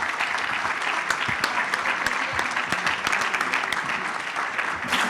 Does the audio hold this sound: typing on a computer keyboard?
no